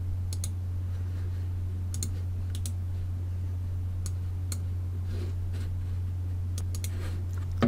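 A computer mouse clicks while LabVIEW software is in use: sparse, crisp, close clicks, some in quick pairs, over a steady low electrical hum.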